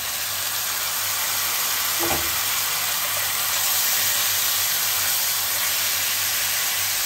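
Tomatoes and cashews added to garlic and ginger frying in a pan for butter chicken, giving a steady close sizzling hiss throughout with a brief soft clatter early on and no talk.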